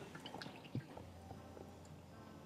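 Water trickles and drips through coffee grounds in a pour-over filter, with quiet wet drops, a small splash and soft liquid pattering at close range.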